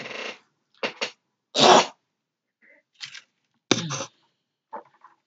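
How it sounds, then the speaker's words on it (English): A man clears his throat and coughs in several short, harsh bursts separated by silent pauses, close and fairly loud, with no talking. "I had to clear my throat."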